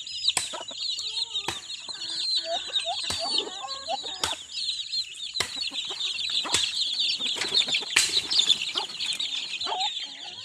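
Chicks chirping in a small flock, a steady chorus of high peeping calls with sharp clicks and taps mixed in, close and fairly loud.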